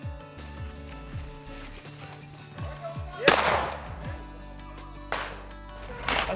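Shotgun blasts on a Michigan rabbit hunt: one loud, sharp report midway, then two further shots a little fainter, with crunching footsteps through brush in between.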